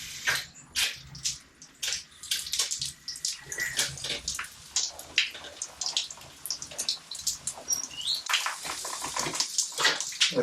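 Water gushes and splashes from a leaking pipe in a shed being converted into a laundry, a steady rushing spray with short bursts of voices talking over it.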